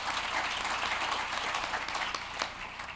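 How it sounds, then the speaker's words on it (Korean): Steady applause from a seated audience at a policy conference on inclusive growth, continuous and moderately loud, thinning slightly near the close. "박수 한번 크게 쳐주시고 하죠"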